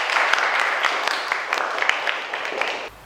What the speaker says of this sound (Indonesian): itu tepuk tangan Rada dulu